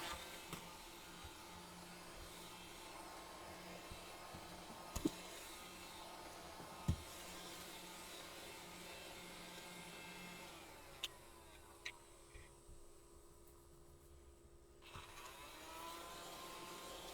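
A small rechargeable vacuum runs over loose gilding flakes on an alcohol ink piece, giving a steady, faint whirring hum with a few soft clicks, and the tone shifts near the end.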